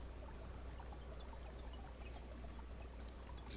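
Steady rushing, pouring water from a water extractor at work in the Mars colony-building video game Per Aspera, a continuous even wash of flow with no pauses and no voices.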